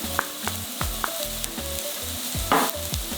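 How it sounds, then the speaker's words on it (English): Onion and garlic fry in a pan, a continuous sizzle broken by a few scraping stirs, heard alongside rhythmic background music and no speech. "Now we're going to continue cooking for a few more minutes until the garlic gets golden brown."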